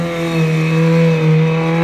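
A Kawasaki ZX-6R motorcycle engine on a track holds a loud, steady, high-pitched whine with gentle swells in level, revving close by and heard alone without talk.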